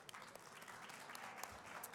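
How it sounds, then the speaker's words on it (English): Quiet applause from a luncheon audience honoring the women on stage, a steady wash of many hands clapping at a distance, fairly faint throughout. "Can we give our ladies another round of applause?"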